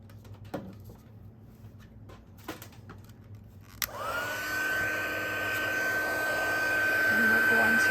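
A heat tool switches on and blows steadily, melting Wow embossing powder on a stamped card; a rising whine holds over a constant airy roar after a few faint clicks and taps.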